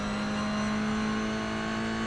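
A race car engine revs hard in the iRacing simulator, a steady loud buzzing drone with a strong sustained tone and no pauses, heard alone.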